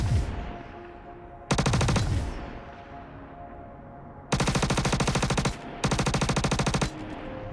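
SMG fire in the video game Star Citizen: three loud, rapid automatic bursts, the first short and the later two longer, each ending with a fading echo between bursts.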